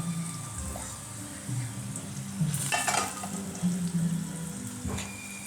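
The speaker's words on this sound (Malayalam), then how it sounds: "ഇവിടെ കോവക്ക ഫ്രൈ ആണ്." Ivy gourd (kovakka) sizzles and crackles in hot oil in a pan, a steady frying hiss close by with a few sharper bursts of spattering and stirring clatter.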